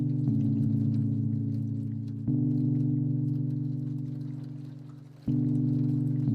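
Rain falls on a window in the Kathy Rain PC game. A steady, close wash of patter sits over a low droning hum. The hum swells twice as it repeats, and no one speaks.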